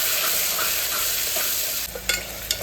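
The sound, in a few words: onions frying in a pan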